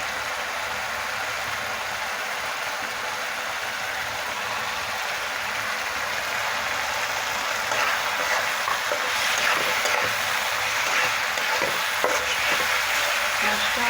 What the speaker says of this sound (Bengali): মাছটা ভালোভাবে কষাই নিতেছি।